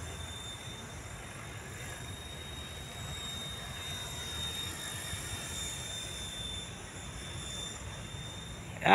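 A KDS 550 RC helicopter with a T-Rex canopy flies over an open field, giving a steady, broad whirring drone with a thin high whine on top, constant and moderately distant.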